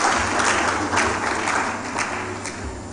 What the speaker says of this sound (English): So round of applause for you, please.